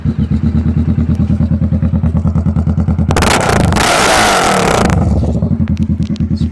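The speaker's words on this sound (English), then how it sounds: "why not fire it up and hear that great Two Brothers exhaust sound." A 2016 Kawasaki Vulcan S ABS motorcycle fitted with a Two Brothers exhaust idles with a loud, pulsing rhythmic beat, then gets a sharp rev midway before settling back to a steady close-up idle.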